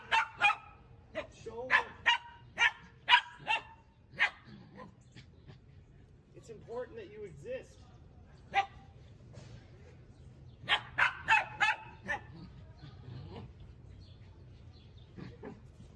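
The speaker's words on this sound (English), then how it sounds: "I just have a boombox and a recording of a dog." Recorded dog barks played from a boombox come in bursts of sharp, repeated woofs and yips with quieter gaps, heard at moderate distance over a low hum, with some whimpering between.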